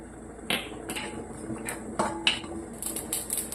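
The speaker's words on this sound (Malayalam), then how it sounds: "ജീരകം ഇത് നല്ലപോലെ പൊട്ടി വരുന്നുണ്ട്" Cumin seeds dry-roast in a pan with sharp, scattered pops and crackles spaced irregularly, and faint scraping underneath. The sound is quiet and close, with no voices.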